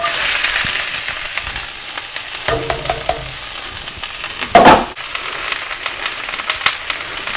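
Vegetables sizzling and frying in a hot iron pan coated with a little oil, a loud continuous crackling hiss with stirring scrapes and a sharp burst of sizzle partway through.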